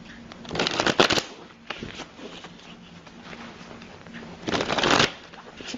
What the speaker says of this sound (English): now let me shuffle the cards here for you.